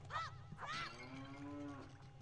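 Cows in the video game Ocarina of Time give two short rising moos followed by one long drawn-out moo, close and clear over a low steady background hum.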